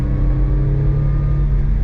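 A repaired Mitsubishi Bravo's engine pulls under acceleration in third gear, heard from inside as a loud, steady, close engine drone with no talk.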